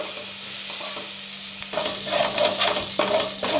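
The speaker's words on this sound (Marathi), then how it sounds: "आलं लसणीची पेस्ट चांगली भाजून घ्यायची, हलवच लागते" Ginger garlic paste fries in a pan and gets stirred, first as a quiet hiss and then as a louder, busy sizzle with scraping strokes of a spatula, close up.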